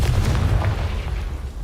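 A Confringo fire spell explodes in the video game Hogwarts Legacy. It makes a loud, deep, rumbling boom that sustains and slowly fades over a second or two, with no voice.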